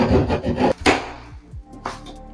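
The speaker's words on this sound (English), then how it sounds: "But if you do have a drywall saw, it'll be a lot faster." A handheld drywall saw cuts through drywall to open an access panel, giving rough rasping strokes that start dense and steady and then break into a few separate scrapes, heard close with no talking.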